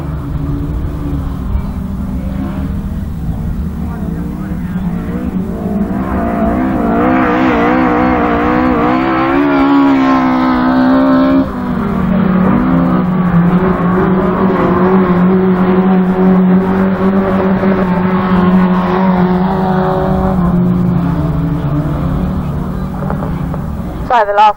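Autograss race cars lapping a dirt track at St Neots, engines droning and rising and falling continuously as they pass, with a race commentator talking over the noise throughout.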